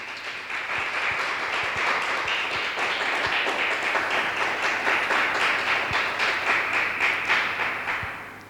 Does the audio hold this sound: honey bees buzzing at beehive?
no